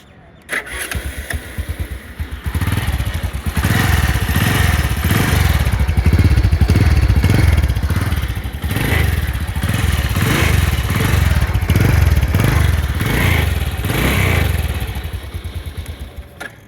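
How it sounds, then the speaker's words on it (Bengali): A Royal Enfield Bullet motorcycle engine starts up and runs with a steady, thumping idle, close and loud, with rhythmic pulsing throughout and no talking. "আপনাদেরকে এখন গাড়িটার ইঞ্জিন সাউন্ড কোয়ালিটিটা একটু শোনাই"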